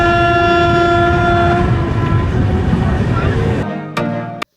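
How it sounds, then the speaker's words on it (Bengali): A passenger train on the Digha line near Tamluk rumbles loudly along the rails with a long horn tone sounding over the clatter, then cuts off into a couple of sharp metallic clanks. "কখন যে ট্রেন মেছেদা ক্রস করে তমলুক পৌঁছে গেছে তা টেরই পাইনি"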